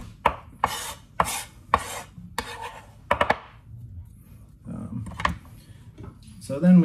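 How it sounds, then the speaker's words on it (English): A knife roughly chops vegetables for a Greek orzo salad on a board, a run of quick, crisp close chops followed by scraping and softer knocks. "I'm roughly chopping and then I'm going in for the like lawnmower thing"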